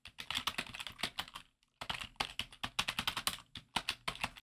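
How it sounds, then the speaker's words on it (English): Fingers type quickly on a computer keyboard, close and crisp, a rapid run of clicking keystrokes broken by one brief pause before the tapping resumes, with no talking. "Let's just type in something."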